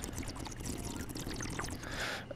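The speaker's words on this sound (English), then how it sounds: "Put some hot sauce." Hot sauce pouring onto a car in the Job Simulator virtual reality game, a soft continuous liquid pour and trickle at low level, with no talking over it.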